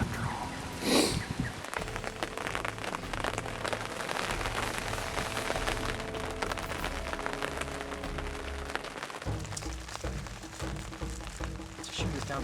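Rain falls outdoors, a steady, dense patter on surrounding surfaces that holds at an even level throughout, with muffled low rumbles underneath.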